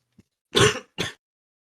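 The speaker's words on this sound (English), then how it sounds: "I tried coughing" A single person gives two short, close coughs in quick succession, preceded by a tiny throat sound, then silence.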